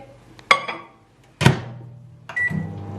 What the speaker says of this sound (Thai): เดี๋ยวไปใส่ไมโครเวฟจ้ะทุกคน ใส่ไมโครเวฟ